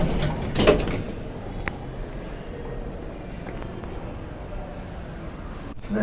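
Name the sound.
lift door sliding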